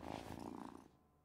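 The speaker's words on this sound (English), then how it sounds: "Oh, such a good cat." A cat purrs in the video game Wylde Flowers, a soft, steady rumbling purr heard close and quiet for about a second before fading out.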